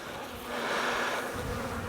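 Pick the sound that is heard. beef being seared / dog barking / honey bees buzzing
honey bees buzzing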